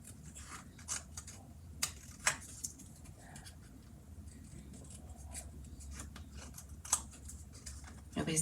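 Scissors trim paper for a Stampin' Up! card project, a series of soft, faint snips and crisp cuts scattered across a quiet room, close by, with little else.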